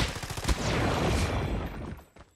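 Dense, rapid gunfire in the mobile shooter game COD Mobile, overlapping bursts that sound like automatic weapons, loud and close, trailing off abruptly at the end.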